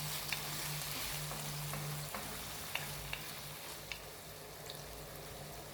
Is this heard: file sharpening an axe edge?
no